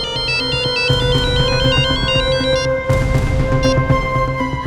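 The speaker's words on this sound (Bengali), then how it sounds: "ফোন ধরো, লাউড স্পিকার অন করো।" A mobile phone ringtone plays loud and close, a bright repeating melodic tune cycling steadily over a sustained backing with no one speaking.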